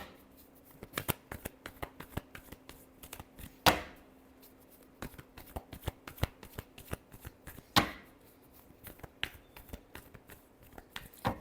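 A deck of tarot cards is shuffled by hand close up, with rapid crisp riffles and taps in an uneven rhythm and two louder slaps along the way.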